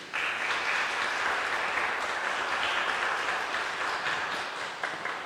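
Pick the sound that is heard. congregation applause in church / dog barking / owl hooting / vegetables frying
congregation applause in church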